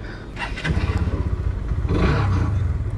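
A Hero Hunk 160R 4V sport naked motorcycle's engine rumbles loud and close on a test ride, pulsing steadily with surges of revving and wind noise.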